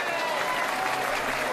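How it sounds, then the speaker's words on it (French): Audience applause at an auction of a Louis Vuitton suitcase that belonged to Brigitte Bardot, steady dense clapping from a crowd filling the room without a break. "On peut l'applaudir."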